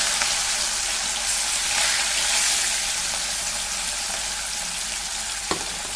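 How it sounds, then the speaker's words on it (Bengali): Pieces of katla fish sizzle and crackle steadily in hot oil in a wok, a dense continuous frying hiss with a brief sharp pop near the end, no voices. "তেলটা ভালো করে গরম হয়ে গেলে এবার আমি মাছগুলো ভেজে নেব"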